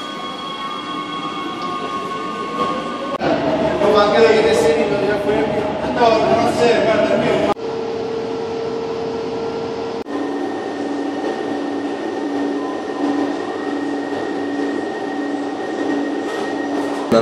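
Driverless metro train on a new line running, a steady rumble and hum with rising squeals and screeches of wheels through curves in the middle, heard from inside the carriage, loud and continuous.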